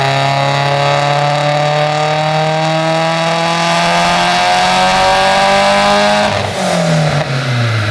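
A Mitsubishi Evo X engine running on ethanol revs hard and loud through a dyno pull, its pitch climbing steadily for about six seconds before dropping off sharply as the throttle lifts.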